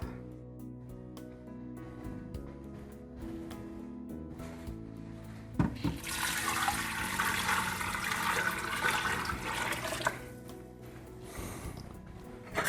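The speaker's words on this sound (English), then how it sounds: "This is 12 cups of chicken broth." Twelve cups of chicken broth pour into a soup pot for a homemade Zuppa Toscana, a loud, steady rushing splash lasting about four seconds over background music.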